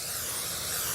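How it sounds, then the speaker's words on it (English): Cooking spray misted from a can onto a baking dish for a cobbler in a TV kitchen, a steady close hiss running for about a second with no talk over it. "we're going to just take this spray, and we're going to spray our dish"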